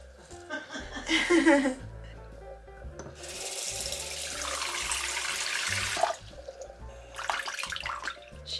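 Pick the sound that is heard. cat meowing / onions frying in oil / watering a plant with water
watering a plant with water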